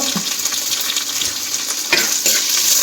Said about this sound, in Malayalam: ഇനി ചേട്ടൻ കറിവേപ്പില ഇട്ട് കൊടുത്തു വീണ്ടും ഒന്നുകൂടി ഇളക്കി കൊടുത്തു ഇനി ചേട്ടൻ പച്ചമുളക് ഇട്ട് കൊടുത്തു